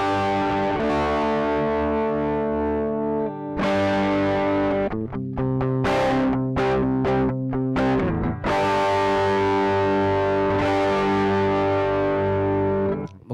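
An electric guitar plays through a Joyo Baatsin overdrive pedal, giving loud, crunchy, distorted chords and sustained notes with a few brief pauses between strums. The playing is close and continuous, with no voices.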